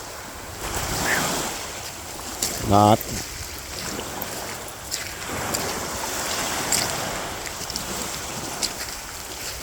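Small waves wash steadily onto a beach during a walk with a dog, a continuous surf hiss mixed with gusty wind noise, and a voice briefly speaks partway through.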